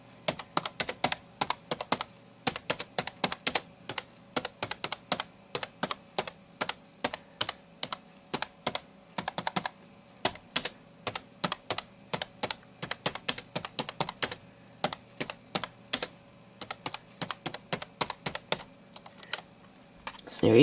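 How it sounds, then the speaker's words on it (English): Rapid, steady keystrokes clatter on an NEC Versa 6030x laptop keyboard in continuous bursts with brief pauses, close and crisp, with no voices. "That's some basic typing. You can hear what the keyboard sounds like."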